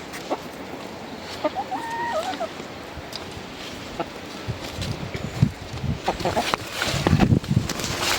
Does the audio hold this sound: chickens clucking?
yes